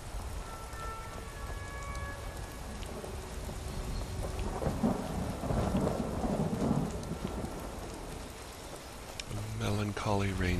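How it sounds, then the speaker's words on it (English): Steady rain pours with rolling thunder rumbling through it in the game Skyrim, near Whiterun's watchtower, building to a louder swell midway, with a faint voice at the start and a bright musical chime near the end. "Holy rainy day."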